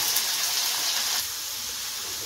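Potatoes fry in hot oil in a pan while cooking ghugni, giving a continuous bright, hissing sizzle throughout, fairly steady and moderately loud.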